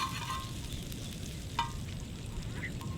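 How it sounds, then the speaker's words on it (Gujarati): Cumin seeds sizzle steadily in melted butter over low heat, a constant crackling fry with a faint clink of a stirring spoon partway through. "આપણે માખણમાં નાખીશું જીરું, જેથી કરીને જીરાને આપણે સારી રીતે પકવી શકીએ અને બળે નહીં"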